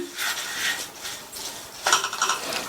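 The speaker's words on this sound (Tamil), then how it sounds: "நிதானமான தீயில வச்சு இந்த அவல் நல்லா மொறு மொறுன்னு வர வரைக்கும் வறுத்துக்கலாம்" Flattened rice (aval) stirred and dry-roasted over a low flame in a pan, giving a close, continuous scraping and dry rustling with brief louder rattling scrapes near the end, and no talking.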